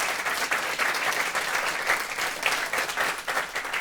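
Steady, dense applause from an audience at a health and wellness conclave, many hands clapping continuously at a fairly loud, even level with no speech over it.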